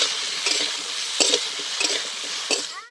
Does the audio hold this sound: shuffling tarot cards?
no